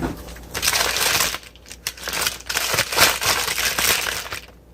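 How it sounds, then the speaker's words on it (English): A knife cuts through a couple of potatoes at home for a slow-cooker meal, giving a steady series of close, crisp crunching slices with short pauses between strokes and no talking. "I'm gonna just go ahead and cut me up a couple of potatoes"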